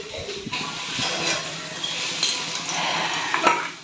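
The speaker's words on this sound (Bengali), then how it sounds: "রান্না বান্না হচ্ছে।" Pots and utensils clatter amid a hissing, sizzling cooking background, with a few light metallic clinks over a few seconds.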